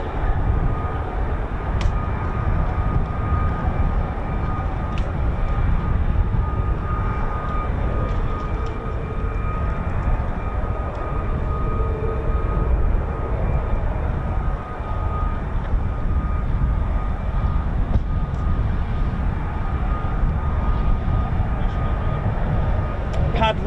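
Steady broadband jet roar from an F-35B stealth fighter hovering into a vertical landing at an airfield pad with 809 Naval Air Squadron, sustained and loud throughout with a constant engine tone and no break.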